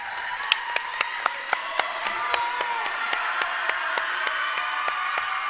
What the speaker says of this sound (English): Knights getting the crowd going a little bit.